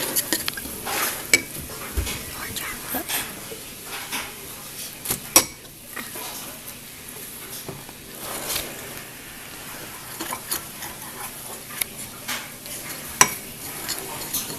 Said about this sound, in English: Put your spoon in there and stir it.